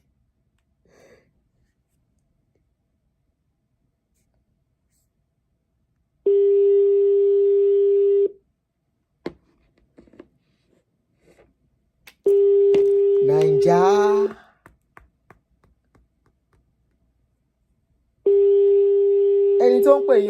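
A telephone ringback tone sounds in three long, steady bursts separated by silence, with a brief voice and some faint noises between the rings.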